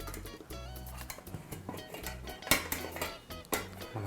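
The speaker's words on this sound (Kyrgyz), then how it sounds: "Сөзсүз түрдө чоң табакка салабыз." Dymdama, a stewed dish, is served onto a large platter with repeated clinks and scrapes of utensils against dishware, over a steady low background.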